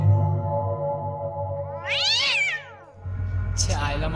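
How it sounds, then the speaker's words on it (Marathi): A cat gives one loud, drawn-out rising and falling meow up close over a low steady background hum, with a brief faint sound just after. "मांजरी वाटतं"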